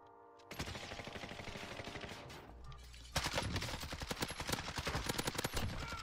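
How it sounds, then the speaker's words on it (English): Sustained automatic gunfire crackles in a multiplayer shooter, a dense rapid series of shots that briefly drops back, then returns louder and closer in steady bursts. "Somebody's shooting us."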